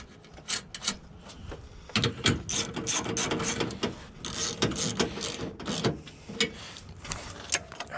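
Ratchet tightening bolts on a 1999 Honda CR-V during fender repair, a rapid series of clicking bursts with short pauses, close and fairly loud, no talking.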